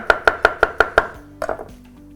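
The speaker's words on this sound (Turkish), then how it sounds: "Şimdi şöyle son kalan mantarımı da doğrayayım" A knife chopping mushroom on a board in six quick, even strokes, then a few softer cuts, close by with no talking.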